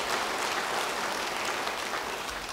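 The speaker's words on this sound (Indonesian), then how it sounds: "Beri tepuk tangan bagi dia." A church congregation applauding during a sermon, steady full clapping from many people throughout, loud and evenly sustained with no break.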